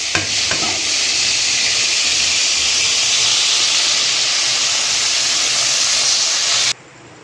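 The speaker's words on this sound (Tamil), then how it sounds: "காலிஃப்ளவர் வந்து பொரிச்சாச்சு." Cauliflower florets fry in hot oil for a Odisha-style fish curry preparation, giving a loud, steady sizzle and hiss throughout with a few early clinks, stopping abruptly near the end.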